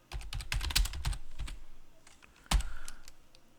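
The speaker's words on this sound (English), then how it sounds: "let's say that I type a line here" Quick run of keystrokes on a computer keyboard entering a line in a bash terminal, close and crisp, trailing off before a final louder key press.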